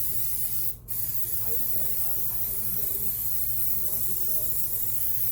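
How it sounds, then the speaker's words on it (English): A single short hiss of butter-flavored cooking spray on muffin tins near the start, followed by quiet room noise. "I'm going to spray my tins really, really good."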